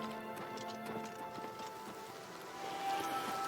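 Steady rain falls in the open world of the video game Oblivion Remastered VR, a soft, even patter with faint ticking drips running at low volume throughout.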